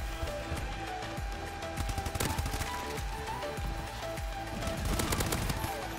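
Shotgun blasts in Call of Duty Advanced Warfare, loud close booms repeating irregularly over a dense backdrop of other gunfire and game noise, with heavier bursts toward the end.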